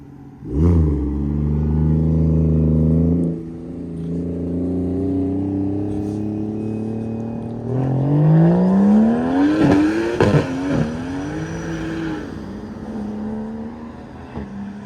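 A straight-piped single-turbo BMW 335i engine revs hard and accelerates, pitch climbing and wavering, with a rough squealing edge as the tires break loose; loud and close.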